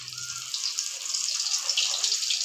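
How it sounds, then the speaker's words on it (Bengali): Pumpkin leaves coated in lentil batter go into hot oil in a kadai. The oil erupts into a steady, bright hiss of sizzling that starts after a brief quiet moment and carries on close and loud. "কুমড়ো পাতাগুলোকে ডাল দিয়ে মাখিয়ে এবার এগুলোকে গরম তেলের মধ্যে ছেড়ে দিতে হবে।"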